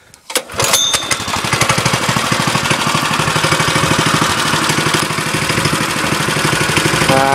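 Petrol engine of a Wasp off-road go kart, nearly new, pull-started and then running steadily at a loud, close, rapid idle-like chug with no talk over it.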